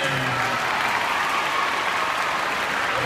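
A school event audience applauds the band, dense sustained clapping from a large crowd filling the space evenly throughout.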